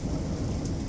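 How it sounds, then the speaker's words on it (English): Michigan night thunderstorm with a loud, steady rumble of thunder and rain, dense and continuous throughout the short stretch. "Thunderstorms."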